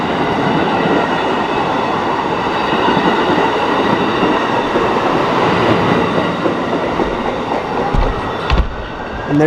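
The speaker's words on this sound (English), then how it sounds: "And there's the second to last run of the Amtrak 352 service right there" Amtrak 352 passenger train rolling through Royal Oak, Michigan, a loud, steady rumble of railcars passing close by, with a rhythmic clatter of wheels, a faint metallic squeal and a few sharp knocks near the end.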